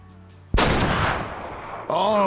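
A loud rifle shot cracks out at a stag in the hunting game Way of the Hunter, a sharp blast with a long reverberating tail, followed by a short rising animal call near the end.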